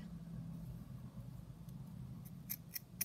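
Scissors snip through fabric for a junk journal embellishment, a few quick faint cuts near the end over a low steady background hum.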